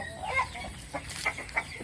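An ornamental hen clucking nearby, a few short soft calls spaced irregularly over a quiet background.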